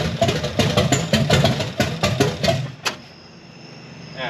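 A 708-horsepower 540 big block Chevy V8 in a C10 pickup cranks over in a loud, rapid, rhythmic chugging for under three seconds, then cuts off sharply into a quiet, low hum.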